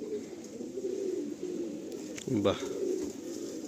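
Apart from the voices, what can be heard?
Madrasi pigeons cooing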